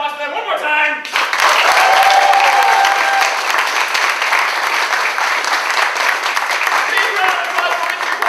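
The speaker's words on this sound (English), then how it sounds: "big round of applause for them one more time" A comedy improv audience applauds the performers at a final show: after a second of talk, sustained, loud clapping fills the room for several seconds, with a voice briefly over it.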